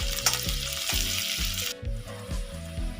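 Onions frying in oil toward browning, giving a steady bright sizzle that drops off partway through, with a rhythmic, beat-driven music track playing underneath throughout.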